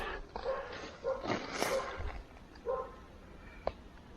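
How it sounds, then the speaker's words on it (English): Dog barks out in the woods, a few faint scattered barks and yips carried through the trees from some distance, with quiet gaps between them. "dog's barking now"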